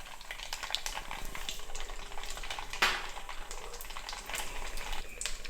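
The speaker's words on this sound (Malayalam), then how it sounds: "എന്നിട്ട് നമുക്ക് കടുകും ഉലുവയൊക്കെ ഇടാം." Mustard seeds and fenugreek in hot oil crackle and sizzle steadily at low volume, with scattered small pops and one brief louder clink partway through.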